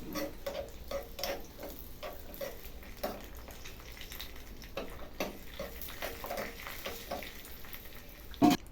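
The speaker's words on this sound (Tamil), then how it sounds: "கொஞ்சம் முந்திரி திராட்சைலாம் போட்டு வறுத்துக்கலாம்" Cashews and raisins frying in ghee for bread halwa, giving faint, scattered crackles and ticks with a soft sizzle, a louder clatter near the end, no voices.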